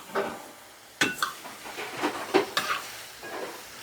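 Oyster mushrooms and minced pork sizzle in a hot pan while a utensil stirs and scrapes them in several quick, irregular strokes, close up.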